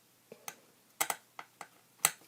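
Old scissors snip through scalloped lace ribbon during a paper-craft project making pencil holders: a handful of crisp, separate clicks and snips, close and quiet, spaced irregularly.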